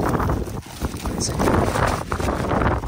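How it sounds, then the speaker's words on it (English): Gusty wind buffets the microphone in loud, uneven bursts, with muffled rumbling swells rising and falling across the few seconds. "very windy today. Hopefully you can hear me."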